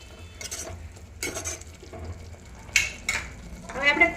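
Green chickpeas are stirred into red chili masala gravy in a pan, with a handful of spaced spoon clinks and scrapes against metal over a faint sizzle, close by.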